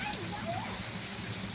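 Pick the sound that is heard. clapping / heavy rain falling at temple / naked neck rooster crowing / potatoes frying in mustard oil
heavy rain falling at temple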